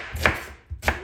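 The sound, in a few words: chopping an onion with a knife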